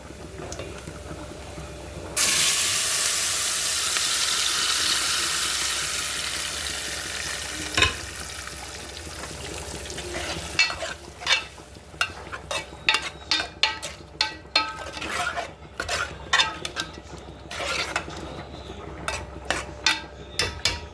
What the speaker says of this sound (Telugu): ఇప్పుడు పప్పు తాలింపు వేసుకుందాం